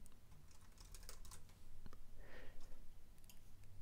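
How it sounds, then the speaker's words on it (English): Keys clatter on a computer keyboard in quick irregular bursts while text is entered in Adobe Photoshop, quiet and close in a still room. "I can now type in my call to action"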